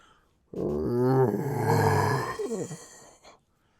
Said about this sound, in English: you hear a horrifying howl in the darkness